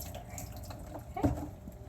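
Water runs steadily from a sink tap as surgical instruments are rinsed with distilled water. The flow is soft and continuous, with faint splashing and a small swell partway through. No one speaks.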